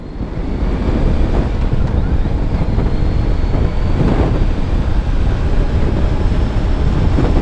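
Kawasaki Ninja 1000 motorcycle accelerating, heavy rushing wind buffeting the microphone almost completely masking the engine, loud and continuous throughout.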